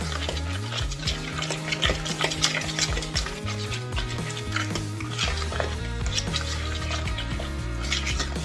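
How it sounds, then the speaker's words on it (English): Corn dog muffin batter with added milk is stirred in a bowl, giving continuous scraping and clinking of a utensil against the dish, moderately quiet and close, with no talking. "Put a little more milk in there, but give it a good mix before you adjust anything"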